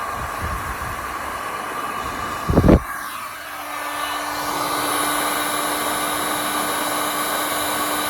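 A heat gun warms an M4 NGRS locking ring to loosen thread locker, blowing with a steady airy roar after a brief clunk from handling.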